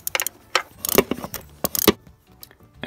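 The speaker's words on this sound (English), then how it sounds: "Now to get to the second bolt, I'm just gonna reach behind with a little extension and take that bolt out." A socket extension removes a bolt on the coolant flange at the rear of the cylinder head of a B7 Audi A4 2.0T, giving close metallic clicks, rattles and ratcheting taps in an irregular, busy rhythm.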